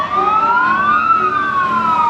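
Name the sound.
siren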